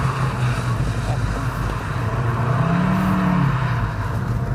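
A hot hatch engine pulls hard under acceleration, its steady roar swelling into a rising tone near the end. The car has a mechanical limited-slip differential that makes acceleration jerky. The engine is loud and close throughout, with no pause.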